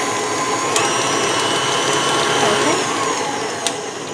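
An electric mixer creams butter and sugar for gluten-free banana bread, a loud, steady whirring motor drone with faint ratcheting beater clatter and a couple of sharp clicks throughout.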